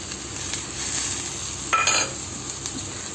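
Chow mein noodles with pepper powder being stirred in a hot pan, giving a continuous sizzle with a few clinks and scrapes of the utensil against the pan and no speech.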